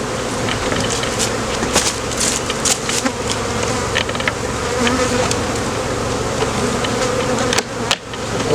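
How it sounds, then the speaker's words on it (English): A dense, steady buzz of many honeybees as a frame is shaken into a box during spring hive splits, with sharp knocks and thumps from the frame and box punctuating the continuous hum. "take this frame right here with bees on it, shake them in the box with her to give her some extra bees"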